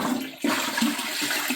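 A toilet flushes just after a bidet seat has been fitted, a loud close rush of water that surges after a short pause and keeps churning and gurgling, with no talk over it.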